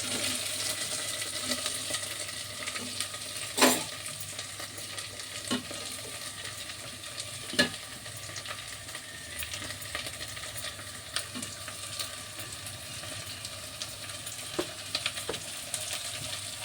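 Ingredients for a coconut tomato stew fry steadily in a pan, a continuous close sizzle broken by a few sharp clinks of a spoon stirring against the metal.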